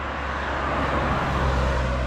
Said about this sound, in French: je suis au bord de la route, hein, on va entendre les voitures